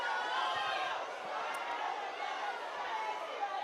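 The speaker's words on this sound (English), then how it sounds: "And you can hear the crowd being a bit restless." Restless crowd at an under-14 boys' football match between Trinidad and Tobago and Jamaica, a steady wash of distant murmuring and chatter with scattered shouts, continuous throughout.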